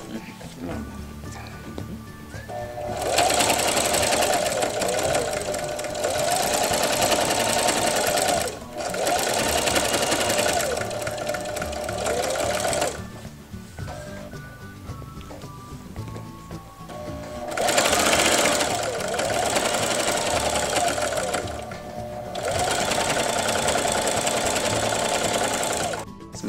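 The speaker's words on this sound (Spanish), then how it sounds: "vamos a ir inicialmente a la máquina de coser y hacer nuestra costura" A sewing machine stitches rag quilt patchwork squares in long steady bursts of rapid, even, mechanical whirring, stopping and restarting several times. Someone speaks in Spanish during the pauses and over the running motor.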